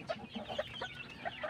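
Chickens, young hens among them, cluck in short, soft, scattered bursts close by, several birds chattering over a quiet farmyard background.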